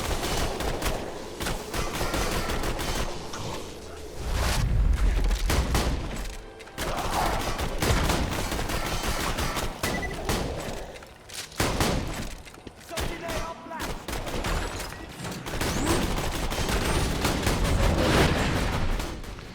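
Heavy gunfire in the shooter game Borderlands 2: rapid automatic bursts and single shots with booming impacts and explosions, loud and almost unbroken for the whole stretch, with people talking over it.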